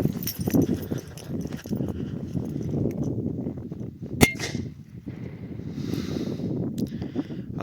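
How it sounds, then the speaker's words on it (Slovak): A Cobra 2 firecracker, a 1-gram banger set off under a pot outdoors, goes off in one sharp, loud bang partway through, against a background of wind and low rumble. "Teraz pôjde petarda Cobra 2, tá má už 1 gram."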